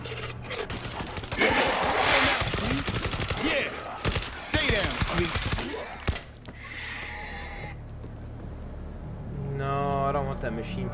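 Machine pistol gunfire in World War Z rattles in rapid bursts over a few seconds, loud and close, mixed with game noise and a person talking over parts of it.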